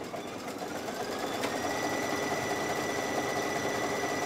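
A sewing machine with an Organ 7511 needle stitches a quilt block, running in a steady, continuous mechanical whir close by without talk.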